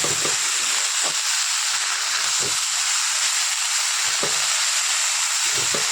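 Fenugreek greens frying in a pan over spices, a constant loud sizzle broken by several brief stirring scrapes at irregular intervals.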